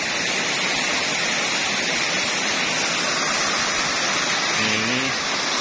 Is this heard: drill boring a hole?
no